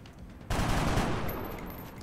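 Gunfire in the strategy game XCOM: Long War breaks out suddenly as a dense, loud burst of shots that rings on and slowly tails off over about a second and a half.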